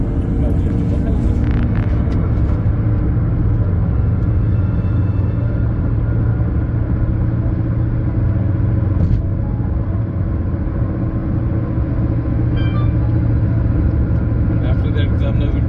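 A car accelerates to merge onto a highway, its engine and road rumble loud and steady throughout, with wind and tire noise.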